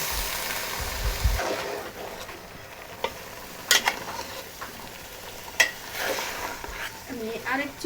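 Bottle gourd greens and potato sauté in hot oil in a home kitchen pan, with a soft, steady sizzle broken by occasional stirring scrapes and light utensil clinks against the pan.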